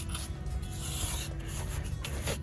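A tool scrapes along the mortared edges of bricks in a garden flower bed, giving a soft, continuous rasping with slight strokes, faint and close with no talking.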